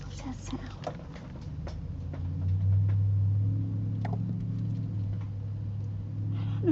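A new car rolls into a driveway with a low engine rumble that swells midway and then holds steady, heard beneath a person talking nearby.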